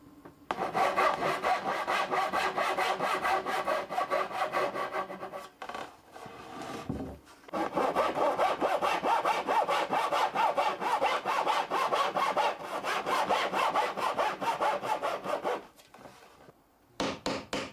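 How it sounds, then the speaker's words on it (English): Rhythmic back-and-forth strokes of a hand saw cutting a mortise and tenon joint in wooden boards, close and steady, with two short pauses before sawing resumes. "The part that will be connected to another board gets cut to a mortise and tenon shape."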